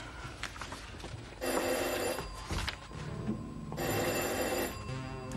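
A telephone bell rings in two long bursts indoors, loud and metallic, with a pause between the rings and no talk over it.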